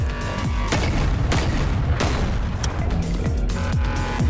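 Shotgun blasts in the VR game Bonelab, several loud booming shots with sharp onsets spread across the stretch amid dense, continuous game noise and mechanical clatter.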